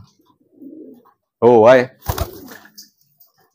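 Pigeons coo in short, throaty bursts during a squabble between the birds, soft at first and then a louder, wavering run, with a brief spoken exclamation following close by.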